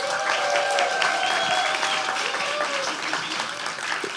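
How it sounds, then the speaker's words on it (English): Steady applause from a crowd at a startup incubator pitch event, loud and continuous throughout, with a faint tonal whine running underneath the clapping. "So please, a big round of applause for them."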